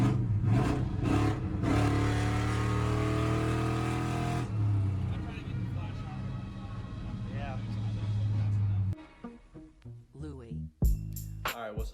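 Stage 4 cammed Chevrolet Silverado pulling away, its engine rumbling loud and near with a choppy idle that rises and falls, then cutting off into quieter sounds with a sharp burst near the end; someone talks over it.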